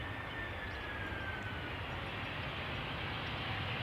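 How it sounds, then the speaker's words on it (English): A Croatia Airlines Airbus A319 arrives from Zagreb at Amsterdam Schiphol after touchdown. A steady, even jet roar holds throughout with no speech. "Croatia Airlines having touched down now. A319 arriving from Zagreb."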